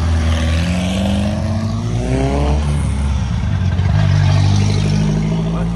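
A Volkswagen Gol at a car meet passes close by, its engine revving with rising then falling pitch as it goes, loud over a busy background of other running cars.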